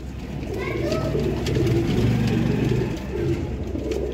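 Golden-eyed rooftop pigeons coo in low, throaty rolls close by, with someone talking over them and a faint engine hum behind.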